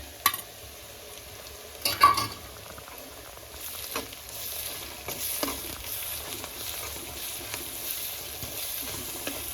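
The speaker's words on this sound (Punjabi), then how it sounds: "ਹੁਣ ਆਪਾਂ ਪੇਸਟ ਪਾਵਾਂਗੇ ਇਹਦਾ ਹਰੀ ਮਿਰਚ ਅਦਰਕ ਲਸਣ" Green chili, ginger and garlic paste fries with onions in a pan, crackling softly and steadily while a spoon scrapes and stirs in several sharper clatters.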